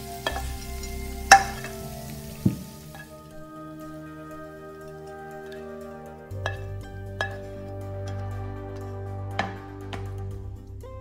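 Sichuan five spice chicken tipped into a pan and stir-fried, with a soft steady sizzle and a few sharp clinks of a utensil against the pan, the frying swelling louder about halfway through.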